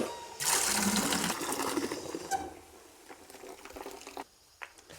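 Water pours from a tap into a bucket, a steady close gushing rush that fills the first half before easing to a quieter trickle and splashes, with a few clanks near the end.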